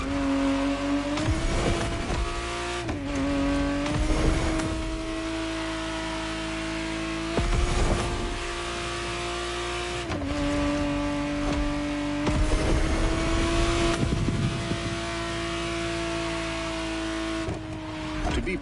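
A 1991 Ferrari 512 TR Testarossa in The Crew Motorfest revs loud and close. Its engine pitch climbs steadily, then drops sharply at each of several gear shifts, with tire noise mixed in.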